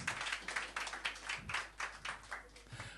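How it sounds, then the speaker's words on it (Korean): Congregation clapping in rhythm at a church gathering during a blessing trip in Japan, a steady run of many hands beating together at moderate distance with no voices over it. "다시 한번 하나님께 영광의 박수 올려드리겠습니다"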